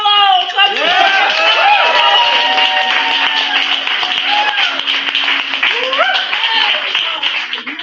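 An open mic crowd applauds with dense clapping and whoops for several seconds, loud and close, thinning toward the end.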